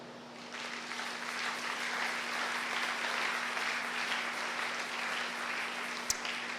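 A church congregation applauds Jesus, a steady roar of clapping from a large crowd that holds evenly for several seconds, with a brief sharp knock near the end.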